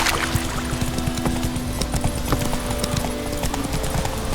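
Roach the horse gallops in The Witcher 3, with a steady, fast clip-clop of hooves running continuously under dense ambient game sound and a low drone.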